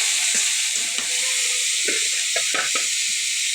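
Bottle gourd leaves frying in a pan with a steady loud sizzle and hiss, punctuated by scraping stirs of a spatula at irregular intervals.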